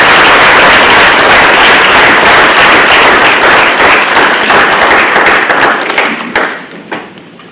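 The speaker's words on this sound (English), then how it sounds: "please give them another round of applause" An audience at a school board meeting breaks into dense, loud applause for about six seconds, then the clapping thins out to a few scattered claps before stopping.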